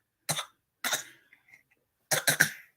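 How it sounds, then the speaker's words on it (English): Three short, dry coughs come in a quick uneven sequence, close and clear in a quiet room, the last a double cough, sounding deliberately forced. "you fake coughing"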